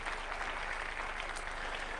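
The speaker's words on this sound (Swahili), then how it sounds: "Kanisa tuwapikie makofi" A large church congregation at an outdoor peace gathering in Kerio Valley applauds the bishops, a dense, even roar of many hands clapping, sustained and slightly distant.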